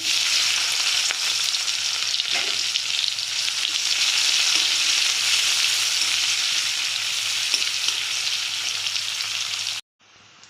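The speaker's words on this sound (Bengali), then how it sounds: "এবারে দেব পেঁয়াজ কুচি" Chopped onions with nigella seeds sizzle in hot oil in a pan for a fish curry, a loud, steady, dense crackle with no talk, cutting off abruptly near the end.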